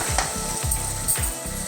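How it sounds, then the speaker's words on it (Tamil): Garlic, ginger and onion sauté in oil for mutton curry, a brief close sizzle broken by three rhythmic stirring strokes, moderately loud with no voices. "பூண்டு இஞ்சி வெங்காயம் நல்லா எண்ணெயில் வதங்குது"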